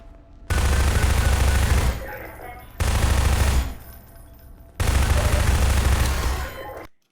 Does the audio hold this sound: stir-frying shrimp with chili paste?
no